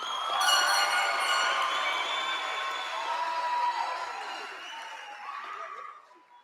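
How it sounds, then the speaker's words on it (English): Commencement audience applauding and cheering the Chesapeake Science Point class of 2024, a broad wash of clapping and whoops that swells early, holds, then gradually fades. "Ladies and gentlemen, a round of applause for the class of 2024."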